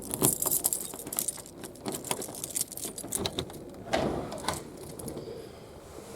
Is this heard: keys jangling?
yes